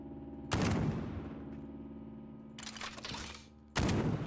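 Gunfire from the video game Death Trash: a loud burst of rapid shots, a second burst a couple of seconds later, then another abrupt volley, heard close with no talking.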